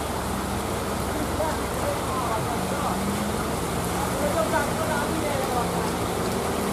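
Steady rain hisses evenly throughout on a mountain road, with a low rumble of traffic and engine noise underneath as people talk.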